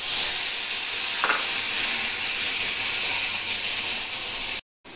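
Onion, garlic paste, green chili and tomato fry in hot oil in a wok, giving a loud, steady sizzling hiss that carries on without a break and cuts out abruptly at the end.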